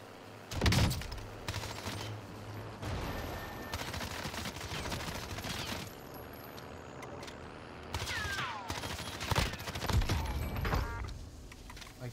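Rapid bursts of gunfire in the Warzone battle royale game, with a solo player using a Kar98 rifle and MP5 submachine gun, loud and close. The shots come in repeated volleys with short gaps between them.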